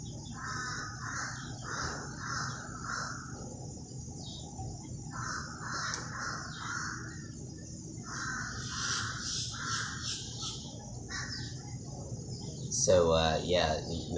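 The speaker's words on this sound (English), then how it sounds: "I hope you could hear me over these crows." Crows caw repeatedly in short harsh bursts at a moderate distance while a person talks steadily underneath.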